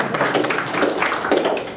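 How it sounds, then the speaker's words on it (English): Audience applause at an annual general meeting election as a nominee is called up, a dense steady patter of clapping filling the room for under two seconds, with no voices over it. "Round of applause."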